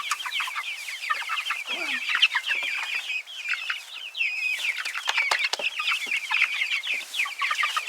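Young chicks cluck and peep continuously in an outdoor run, a dense, close chorus of overlapping high chirps with occasional scuffling and no talk.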